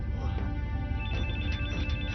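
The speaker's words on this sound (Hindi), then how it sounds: "फोन उठाओ।" A telephone rings with a steady electronic ringtone, repeating tones sounding continuously over a low rumbling background.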